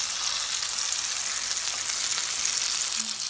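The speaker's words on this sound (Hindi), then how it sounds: "3 से 4 मिनट मैं इसको फ्राई करूँगी और ब्राउन कलर होने पे हम इसे डिश आउट" Chana dal kebabs fry in hot oil in a pan, giving a steady close sizzle and crackle that holds throughout without voices.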